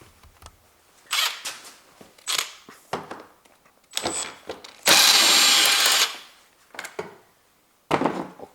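A ratchet works the headlight bolts loose on a BMW E90 3 Series. Short bursts of clicking come close and loud, with one longer continuous run in the middle and brief pauses between the strokes.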